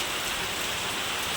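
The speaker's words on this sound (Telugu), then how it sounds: "ఇంట్లోకి కూడా వాన వచ్చేసింది" Heavy rain pours down in a dense, continuous hiss of drops hitting surfaces, loud and unbroken for the whole short stretch.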